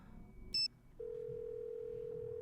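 A phone call in a Nancy Drew video game: a short bright chirp, then a steady, continuous ringback tone holding clearly on its own.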